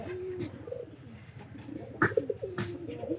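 Domestic pigeons coo in low, throaty bursts, several calls overlapping at close range with soft rustling between them and brief pauses.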